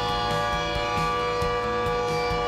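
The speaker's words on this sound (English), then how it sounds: "A continuous siren warns you of a fire in a process plant." Continuous fire warning siren at a process plant, a steady sustained wail holding one pitch throughout, heard alone and fairly loud.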